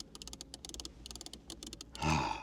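Climate control knobs with metal knurling in a Bentley Continental GT Speed clicking in quick, close, light bursts, ending in a louder, fuller sound.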